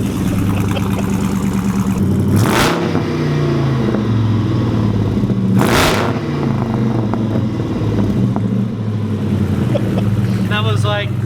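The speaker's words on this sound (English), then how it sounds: "We got a cold start." A car engine fires on a cold start and runs loud and rough nearby, with a couple of sharp revs cutting through the steady idle and speech heard over it.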